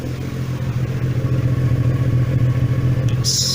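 VW Caravelle T3 van fitted with a Subaru H6 3.0 engine idling steadily after a starter motor change, an even low rumble close up, ending with a brief hiss.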